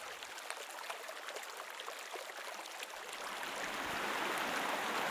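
Fast-flowing river water rushes in a continuous, even hiss that swells slightly louder toward the end, with no talking.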